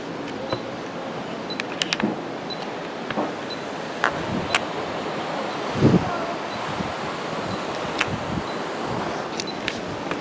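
Wake from a Carnival Fantasy cruise ship washes under a pier at Costa Maya, a steady rushing surf with wind noise and scattered faint knocks, no talk.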